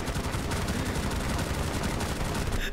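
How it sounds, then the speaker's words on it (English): LMG gunfire in Rainbow Six Siege, several light machine guns firing together in a dense, continuous loud rattle of rapid shots lasting the whole moment, no talking. "On my mark, start firing until your LMGs run out."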